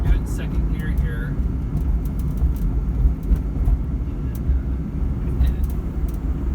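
A car climbs a long hill in second gear, a low steady engine and road rumble sitting close and loud throughout, with a few brief clicks and rattles on top.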